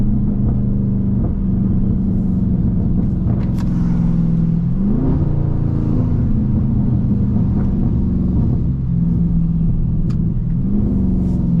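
A 600-horsepower Dodge Scat Pack with a straight-pipe exhaust drones loudly and close, its revs repeatedly blipping and swelling as it downshifts, with a continuous heavy rumble throughout.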